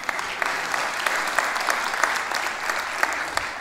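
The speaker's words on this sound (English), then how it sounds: "Give that man a clap or something." An audience claps for a guest speaker in a steady, moderately loud burst of applause, with individual sharp claps standing out from the dense wash.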